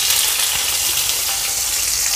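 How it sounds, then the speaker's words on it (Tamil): Sliced onion fries in hot oil with mustard seeds and urad dal, giving a steady, close, bright sizzle with no pauses. "இந்த வெங்காயம் நல்லா வதக்கிடுவோம்"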